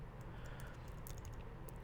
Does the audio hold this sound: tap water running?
no